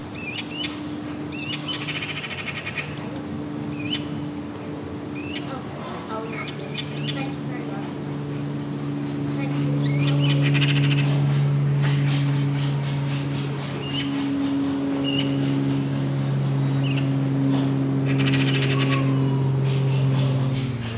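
Young wood pigeons squeak repeatedly in short high chirps, scattered and close, over low droning tones and some voice-like murmuring in the background.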